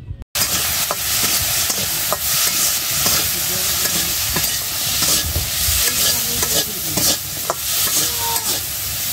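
A fish curry with salt, chili powder and turmeric is fried and stirred in a pan, with cumin also named, giving a loud, continuous close-up sizzle broken by repeated scraping strokes of the spoon.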